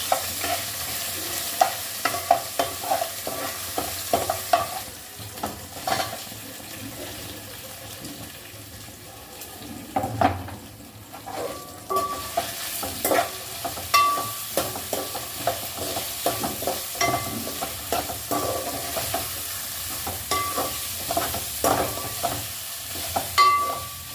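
Onion with a pinch of salt frying in hot oil for dum biryani, stirred with a utensil: a steady close sizzle under repeated scraping clatters and clinks against the pan, with some splashy water-like noise and no talking.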